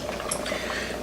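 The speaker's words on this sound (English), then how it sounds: "So as you can see, the water has started to boil." Water boiling in a pot on a stove while making jeera rice, a steady low bubbling simmer heard close and continuous.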